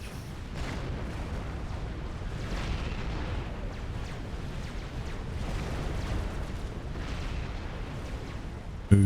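Riptide units firing into the ground in Forged Alliance Forever, a steady rumbling barrage of distant booms and blasts rolling on without pause.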